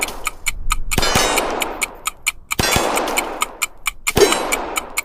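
Gunshots ring out on steel targets, each sharp report followed by a bright metallic clang, repeating in an uneven series with a rapid ticking pattern running through the whole stretch.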